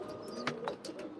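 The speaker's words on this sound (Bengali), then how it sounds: "একটা কবুতর আমি আপনাদের দেখাচ্ছি" A pet pigeon coos softly at close range, a few brief low murmuring calls over a quiet indoor background.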